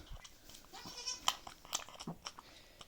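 A nanny goat and her newborn kids being fed in a farm setting, with faint, close crunching and chewing sounds and a brief soft bleat, all quiet and scattered.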